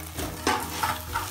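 Potato and flour dough sautéing in a pan, a soft sizzle broken by a few scraping stirring strokes, close and brief with no voices.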